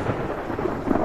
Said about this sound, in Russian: Молния долбит.